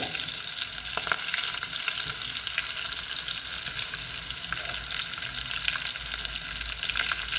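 Mustard seeds popping and ginger garlic paste frying in hot oil for a wild lemon pickle, a steady close sizzle with scattered crackles and pops throughout, no voices.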